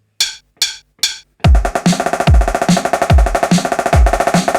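Three crisp solo snare hits, then a fast, loud marching snare pattern with accented rolls, duplets, triplets and quintuplets in rhythmic bursts, close and dry.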